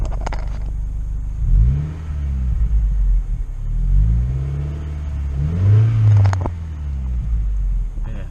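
A 2014 Subaru WRX engine revving, with deep rumbling rises and falls as the throttle is blipped several times, close and loud, with brief talk over the idle.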